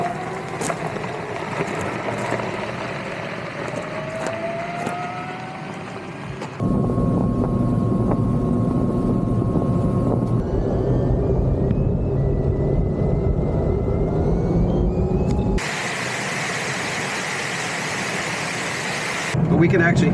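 Polaris Ranger XP Kinetic electric UTV driving, with a steady motor whine and loose rattling over broad rumbling road noise, while people talk throughout.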